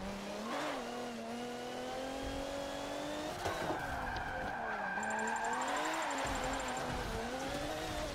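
Race car engine in Forza 7 revving hard through a drift with rising and falling pitch, tires squealing and skidding throughout, a brief shift bump midway, no talk.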